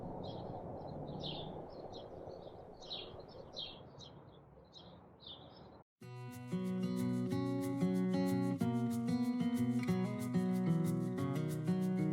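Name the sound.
birds chirping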